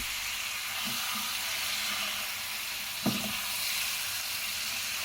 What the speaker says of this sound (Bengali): লবণটা দেওয়ার পরে চিকেনটাকে আমি খুব ভালোভাবে মশলার সাথে মিশিয়ে নিচ্ছি